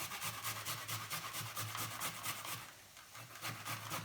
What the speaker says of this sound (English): So I'm going to grate that on the finest one of the grater.